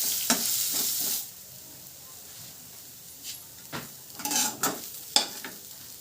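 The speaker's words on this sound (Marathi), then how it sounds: "हे फिरवून घ्यायचं आहे. त्यानंतर आपण जे मिक्सर केलेलं ना ते सगळं वाटण घालून घ्या." A ground masala paste frying in a pan is stirred over medium heat: a loud sizzling burst at the start, then a quieter simmer broken by several scraping stirs and spoon knocks.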